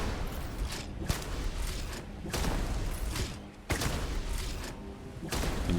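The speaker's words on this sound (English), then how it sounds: "This is a particle weapon." Repeated energy-weapon blasts from a particle weapon in the video game Starfield, arriving in bursts about every second with a sharp crack near 1.1 and 3.7 seconds, dense and loud with no talk.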